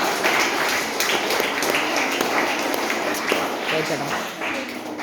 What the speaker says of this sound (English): All of you clap for her also.